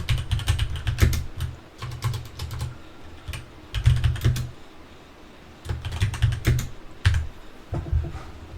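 Typing on a computer keyboard while entering an inventory sales order: rapid bursts of close, crisp key clicks separated by short pauses, with one longer gap in the middle.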